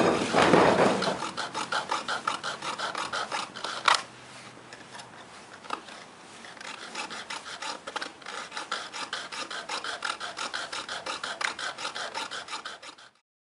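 A hand saw cuts a knife blade blank held down under body weight, producing steady rhythmic rasping strokes, close and even, with a couple of sharp knocks early on before the sawing settles into a regular back-and-forth pattern.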